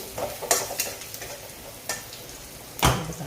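Mustard seeds, cumin and turmeric in hot oil for a mung dal tempering, a faint sizzle broken by a few sharp pops and clinks of a spoon against the pan.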